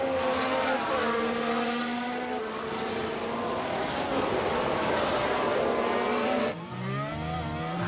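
Formula 1 race car engines in the F1 Manager 23 game, loud high engine whines rising and shifting in pitch as cars pass, with a brief gear change near the end.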